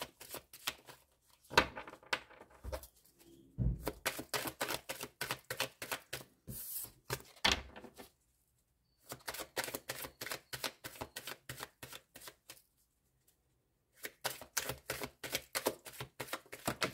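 Tarot cards are shuffled and drawn in a quiet room, with rapid riffling bursts and soft flicks arriving in clustered runs separated by short silent pauses, close and fairly faint.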